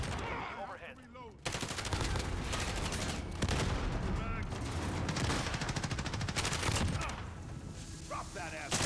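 Rapid automatic gunfire in the Call of Duty video game, dense bursts of shots that run almost continuously after a brief quiet opening, loud and close, with faint voice chatter mixed in.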